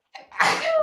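A single sneeze, close and fairly loud: a short sharp intake followed by a bursting, breathy expulsion that trails off, with no talking alongside.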